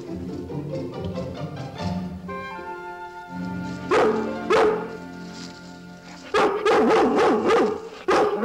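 An animated cartoon dog whimpers and then lets out several short barks in bursts, loud and close, over a music score with no talking.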